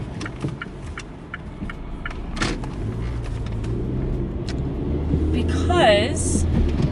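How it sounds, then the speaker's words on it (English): A car driving along with a low steady engine rumble and road noise, some clicks and knocks inside the cabin, and a warbling tone near the end, heard under nearby talk. "We are driving currently."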